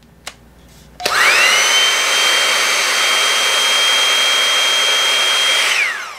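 A Revlon One Step Air Straight hot-air brush on its heat-and-air styling setting switches on with a click and blows a loud, steady whooshing whine for about five seconds, then winds down, heard close with no talking.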